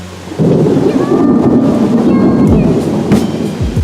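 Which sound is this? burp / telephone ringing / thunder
thunder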